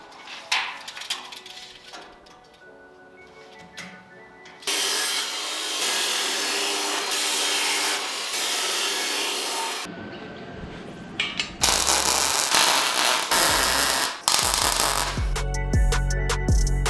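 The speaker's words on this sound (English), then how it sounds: "Chop saw will come in handy for that as well." A chop saw cuts wood for a camper trailer tailgate frame, with loud, sustained, harsh bursts of cutting noise separated by brief lulls and sharper surges near the end.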